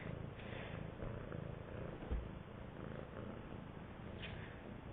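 A domestic cat purrs close up: a steady, rumbling drone that holds evenly for the whole stretch with no voices over it.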